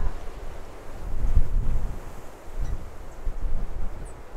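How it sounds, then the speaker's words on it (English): Wind gusting across a remote Northern California golf course, buffeting the microphone in uneven low rumbles. "That wind is really taking it."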